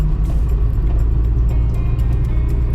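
A Honda Civic EK9 Type R engine as VTEC kicks in: a loud, close, steady engine roar with heavy low rumble that holds throughout without a clear rise in pitch.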